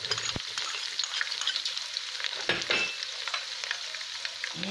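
Garlic, ginger and shallots fry softly in a pan for fish head curry, a quiet continuous sizzle broken by a few sharp utensil knocks against the pan.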